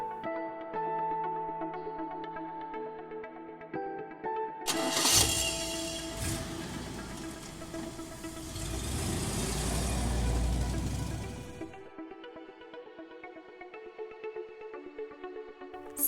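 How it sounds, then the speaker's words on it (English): A vintage car engine cranks into life over a soft musical backing, roars loudly for several seconds with a deep rumble, then cuts out and leaves the music alone again. "vintage car,"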